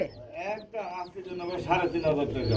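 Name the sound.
black Bombay pigeons cooing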